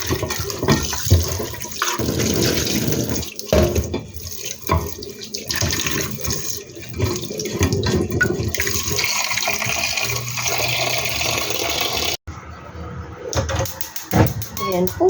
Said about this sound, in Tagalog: Lagyan na po natin ang ating malinis na tubig.